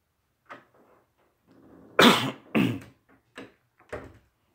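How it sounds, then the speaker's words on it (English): Several harsh coughs and a throat clearing come from one nearby person, bursting in a short irregular cluster over near silence. "Pardon me for the coughing."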